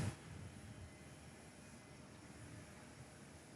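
A Qantas Airbus A321neo comes in to land on runway 06 at Perth Airport, its engines a steady distant roar that holds level throughout.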